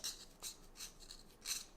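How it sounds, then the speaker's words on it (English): Quiet, repeated scraping strokes of a blade shaving a charcoal pencil to a taper, about four short rasps in an irregular rhythm, close and faint. "I'm just using the blade at this point just to give a little bit more of a taper"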